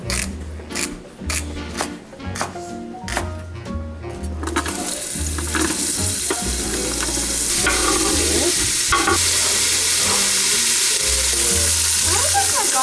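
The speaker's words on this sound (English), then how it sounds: "Sissy's stirring the celery and all" Celery is stirred in a pot for an Instant Pot beef ragu, giving a steady scraping and stirring that grows into a fuller, continuous sizzle partway through.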